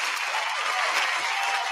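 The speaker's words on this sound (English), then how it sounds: "It's late, but there's the applause." Dense applause-like wash of clapping, steady and fairly loud throughout, rising in place of a crowd during a talk show about the US Capitol riots and the Georgia runoff.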